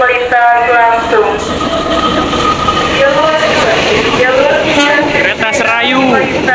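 A train runs straight through a station on track 2 or 3 without stopping, its loud steady rumble filling the scene while people talk over it and wheel squeals rise and fall.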